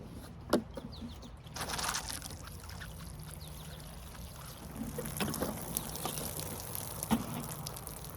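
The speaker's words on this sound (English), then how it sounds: "I'm going to water it now" Water pours onto a potted plant set in a basket lined with coffee filters, a soft steady trickle and splash running for several seconds at close range, with no talking.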